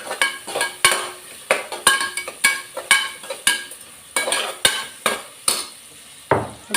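A spoon stirs and scrapes asafoetida and turmeric powder in a hot pan, with sharp rhythmic metal clinks and taps repeating roughly every half second over a faint sizzle, close up and with no talking.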